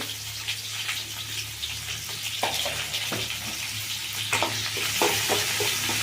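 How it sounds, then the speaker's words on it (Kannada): Onions fry in a pan for moong dal, a steady sizzle with occasional stirring scrapes and crackles running throughout, with no voices. "ಇದೆಲ್ಲ ಚೆಂದ ಫ್ರೈ ಆಗಲಿ"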